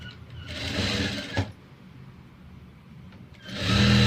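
A sewing machine runs an edging stitch along a princess-cut blouse in short bursts, with a quiet pause between the first run and a louder burst starting near the end.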